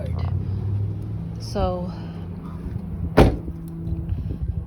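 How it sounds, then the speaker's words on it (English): A car with a dead original 20-year-old alternator makes a bad noise: a low idle rumble with a rising whine, a sharp clunk and uneven knocking, while a voice speaks briefly. "I believe the alternator has died. It's the original alternator, so 20 years old."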